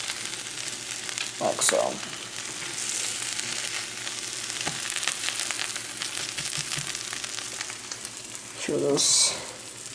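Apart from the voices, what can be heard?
sandwich sizzling on the grill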